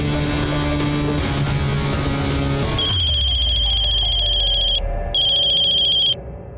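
A phone's electronic ringtone sounds while a call is placed to a father, first as a melodic tune over a low hum, then as a piercing repeated trill that stops, resumes, and cuts out.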